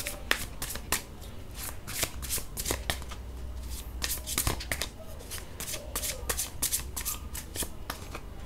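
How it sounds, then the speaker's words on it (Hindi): Tarot cards being shuffled by hand, a rapid series of crisp riffling bursts and soft slaps repeating steadily and close up, with no talk over them. "कुछ और कार्ड्स पुल करती हूँ और आपको एक्सप्लेन करती हूँ।"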